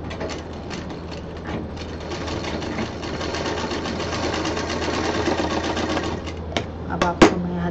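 A sewing machine sews along a bag zipper in one steady, unbroken run of close mechanical whirring and rattling, ending with a few clicks.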